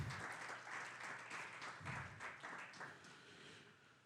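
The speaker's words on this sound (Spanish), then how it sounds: "Dale una ofrenda de palmas al Señor." A church congregation claps together in sustained, moderately quiet applause, with the dense clapping swelling in waves before gradually easing off.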